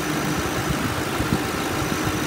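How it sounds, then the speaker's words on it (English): A 2011 Ford Crown Victoria Police Interceptor engine idling smoothly after running for nearly an hour, with a steady low rumble and slight pulsing, close and continuous with no talk. "It idles smooth and it revs up nice."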